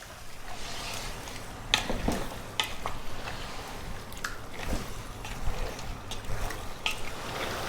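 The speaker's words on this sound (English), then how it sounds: "above medium heat, we're going to go for about 6 minutes stirring fairly often" Four chickens frying in a large pot over medium heat as a spoon stirs them, giving uneven scraping and clattering strokes over a soft continuous sizzle, close and moderately loud, with no talking.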